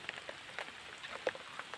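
Light rain falls outdoors on a rainy day spent foraging for crabs and snails, a soft, steady patter with scattered distinct drops, close by and fairly quiet, with no talking.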